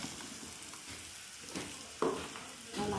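Mustard seeds splutter in hot sesame oil with a soft, steady sizzle and a few sharper pops and crackles, quiet and close.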